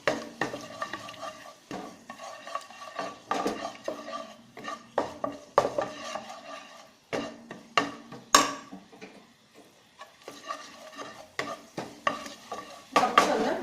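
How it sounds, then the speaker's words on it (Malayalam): Soy sauce mixture being stirred in a hot pan for a spicy potato fry, with irregular scraping and clinking of a spoon against the pan and a light sizzle underneath, close and fairly quiet. "അതും കൂടെ ചേർത്തൊന്ന് മിക്സ് ചെയ്യാം"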